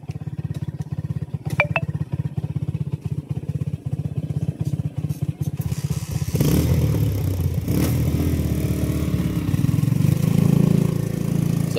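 A big bike motorcycle engine idles and clatters nearby, then roars louder as it passes close by and carries on steadily to the end.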